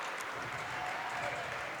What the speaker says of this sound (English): the crowd stands and starts giving them applause